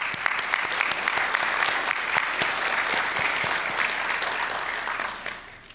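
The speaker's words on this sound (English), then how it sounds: "I'd like to give a round of applause to all those that had a part of it" Sustained audience applause at a district meeting, a dense, steady wash of many hands clapping that thins and fades toward the end.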